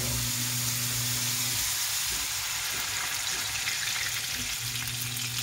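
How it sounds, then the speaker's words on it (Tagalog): Second extract of coconut milk coming to a boil in a pot for Bicol Express, a steady broadband simmering hiss with a low hum that drops out briefly midway, heard alone without talk. "Ito na po yung panglaga natin, yung pangalawang gata. Pakuluan po natin ito na."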